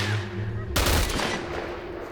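A sudden burst of rapid gunfire in the video game S.T.A.L.K.E.R.: Chernobyl Chronicles erupts after a steady hum and continues loudly to the end, dense and rattling.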